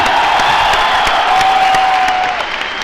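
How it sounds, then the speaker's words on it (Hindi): An audience at an award function in Delhi breaks into strong, sustained applause, a thick continuous patter of many hands that fades slightly near the end. "एक बार जोरदार तालियां"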